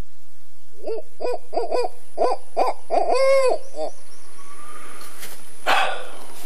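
A voice imitates an owl, giving a run of short rhythmic hoots followed by a longer wavering hoot, close and loud, then a brief snort.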